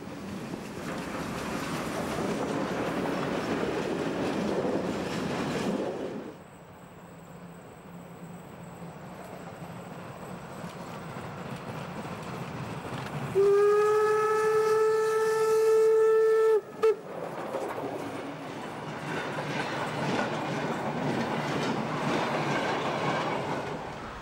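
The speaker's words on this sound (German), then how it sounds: "Die 52 80 39 fährt zwischen Artern und Naumburg." Steam locomotive 52 8039 on the Unstrut railway between Artern and Naumburg, heard as steady rolling rail noise with clattering wheels, then a loud sustained steam whistle blast near the end before the train rumble resumes.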